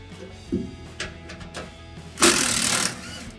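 An impact wrench works an exhaust bolt on a 2011-2020 Ford F-150, with a few short rattling bursts followed by one longer, louder hammering run close by.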